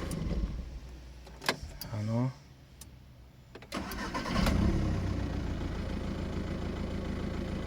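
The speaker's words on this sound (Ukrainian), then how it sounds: "Заводиться все чітко, але кидає чуть-чуть двигуном." A Volkswagen Caddy 1.9 TDI diesel with a hot-start problem cranks briefly and then catches. It settles into a steady, rough idle close to the microphone, with a slight shake in the engine.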